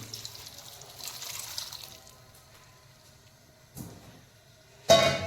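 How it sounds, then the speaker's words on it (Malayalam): Water splashes and pours into a pot of washed jackfruit in short bursts, with quieter trickling between them. "ഒരു കപ്പ് വെള്ളം"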